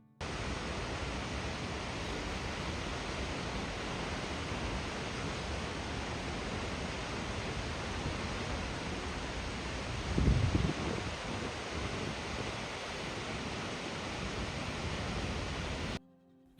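A waterfall beside a short hiking trail off the Sea to Sky Highway in Canada gives a steady, unbroken roar of rushing water, with one brief louder thump partway through.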